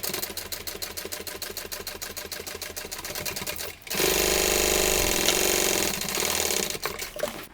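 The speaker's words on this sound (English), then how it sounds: "we're going to sew these with the seam allowance given in the pattern" A sewing machine stitches seams on a cotton tote bag, a rapid rhythmic clatter of needle strokes, then a brief pause and a faster, smoother whirring run, close and without talk.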